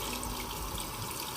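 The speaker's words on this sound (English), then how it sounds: "I might want to add a little bit more water." A bathroom tap runs steadily while someone wet-shaves, giving a continuous close-up hiss of flowing water with no break.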